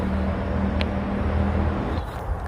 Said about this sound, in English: You hear the traffic, not far away